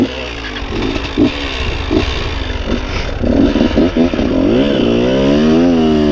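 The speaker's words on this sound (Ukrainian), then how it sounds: "Сюди сильно газувати не буду, але на горку треба припіднятися." A new Honda XR 190 L motorcycle climbs a hill, its single-cylinder engine revving in uneven bursts that rise and fall, loud and close, then settling into a strained, rising pull.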